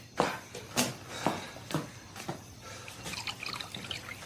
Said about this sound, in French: Tu veux quelque chose? Un verre d'eau?